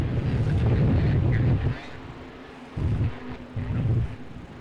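Superboat racing on open water off Geelong, with a loud, steady engine roar and wind buffeting that drops away briefly, then surges back in two bursts.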